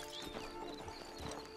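Horse hooves clip-clop in Red Dead Redemption 2, a few soft, irregular thuds close by over a steady game ambience.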